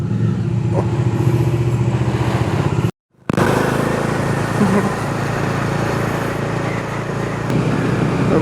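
A Bajaj Dominar motorcycle engine warming up idles steadily up close with a constant low throb, cutting out briefly for a moment before resuming at the same level.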